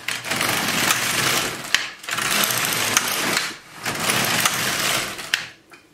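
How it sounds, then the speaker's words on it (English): An LK150 knitting machine knitting rows of waste yarn: the carriage sweeps back and forth in three long, loud rasping passes with brief pauses and small clicks between them, close and alone. "we're just going to be knitting with our waste yarn until we have nine or 10 rows"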